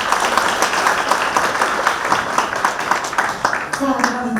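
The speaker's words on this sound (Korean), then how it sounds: "다시 한번 뜨거운 박수 부탁드립니다." An audience at a book launch for a political author in Nonsan claps warmly, a dense steady round of applause that thins slightly near the end as a voice begins.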